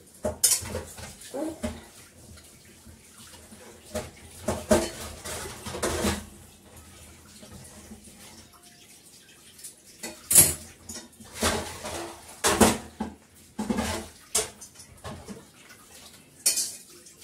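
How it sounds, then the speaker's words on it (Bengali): Piled-up dishes being washed in a home kitchen, with pots and utensils knocking together in scattered clinks and clatters, some sharp and close, between quieter gaps. "বাসন এখানে অনেক জমে গেছে, চাউমিনটা করতে করতে ধুয়ে ফেলে।"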